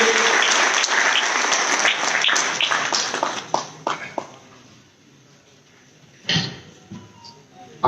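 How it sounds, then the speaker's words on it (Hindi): Applause from the audience at an Aam Aadmi Party workers' event in Hisar, loud and dense for about four seconds, then thinning out into scattered claps and a lull, followed by a short final burst. "एक जोरदार तालियों से सुशील गुप्ता जी का स्वागत कीजिए"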